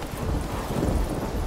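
A horse gallops steadily in The Witcher 3 open-world game, its hoofbeats a muffled, continuous low rumble under a wash of wind-like noise throughout.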